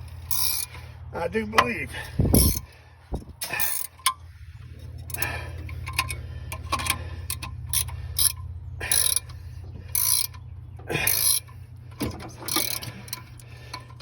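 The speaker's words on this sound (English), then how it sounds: "that clicking? That's those rings cracking free in the cylinder" Piston rings click as they crack free inside an engine cylinder, giving irregular mechanical ticks and ratcheting clicks at close range. A voice speaks briefly near the start.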